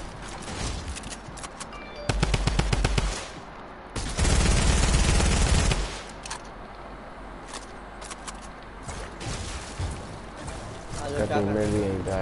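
A drum gun fires in a video game in loud, sustained rapid bursts with quieter shots between them, while a voice talks over much of the action.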